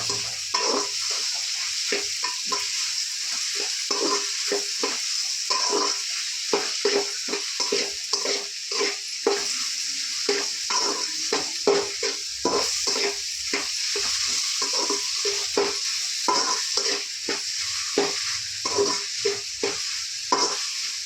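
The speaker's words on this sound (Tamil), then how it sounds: "தக்காளி போட்டு நல்லா வதக்கலாம்." Four tomatoes sauté in a hot pan with a continuous loud sizzle, broken by frequent rhythmic scraping of a stirring spoon, close and with no talk.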